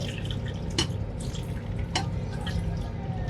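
Water poured onto a turkey stuffing mixture in a kitchen, a soft continuous splashing trickle with a few small clinks, close and steady throughout.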